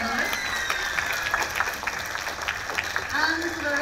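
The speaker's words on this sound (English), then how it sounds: "can we give another big round of applause for these amazing finalists?" Audience at a talent show applauding the finalists, steady moderate clapping that continues throughout, with a voice heard over it.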